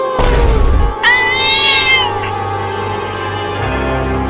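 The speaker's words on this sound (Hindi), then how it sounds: "मेरे पीछे आ रहा है वो बिल्ली का बच्चा" A kitten lets out a drawn-out, rising and falling meow, loud and close, preceded by a low thump and followed by a quieter room hum in a comic Hindi skit.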